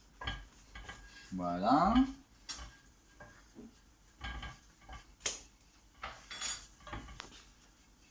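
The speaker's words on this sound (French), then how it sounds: "On va bien mélanger avec une spatule en bois." Wooden spatula stirring chopped vegetables with curry powder in a bowl for achards de légumes, producing close scraping and light clinks in irregular bursts, with one louder clattering stretch early on and a brief word spoken.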